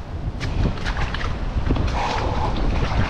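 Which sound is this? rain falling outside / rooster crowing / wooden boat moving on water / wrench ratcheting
wooden boat moving on water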